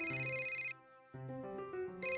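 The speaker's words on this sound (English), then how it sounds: "My phone rang in the early morning." A harmonic electronic phone ringtone from the cyberpunk dating sim Cyberbang 2069 plays two tonal bursts separated by a short gap, loud and close, with no voices.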